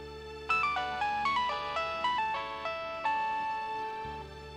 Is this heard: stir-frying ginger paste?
no